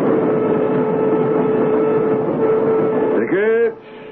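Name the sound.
commuter train sound effect in radio drama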